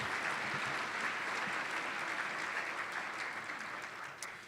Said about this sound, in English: Could we give a round of applause for the people in this room who've done such great work on this as well?